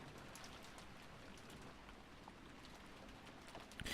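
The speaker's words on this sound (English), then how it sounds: "All she could hear was the unsettling sounds of the wind and rain." Steady, soft rain patters continuously with a faint hiss of wind, quiet and unbroken, ending in a slightly louder gust or rustle.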